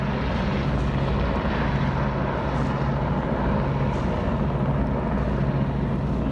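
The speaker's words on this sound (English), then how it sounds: "Just a helicopter landing on a super yacht." A helicopter landing on a super yacht gives a steady, loud rotor and engine drone throughout, close and continuous with no pauses and no voices.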